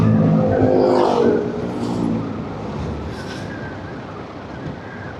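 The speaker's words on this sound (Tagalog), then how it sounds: "Dami ng sasakyan dito ngayon nagpupunta oh." Cars drive past on a road near the Batman Loop after heavy rain, a loud close whoosh of tyres and engines that fades into steadier, quieter traffic hiss.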